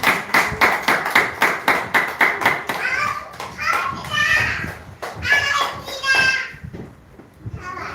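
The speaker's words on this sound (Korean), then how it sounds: "영광 박수 올리겠습니다." A church congregation claps in a steady rhythmic beat, then breaks into scattered cheering and children's voices with lighter clapping fading out.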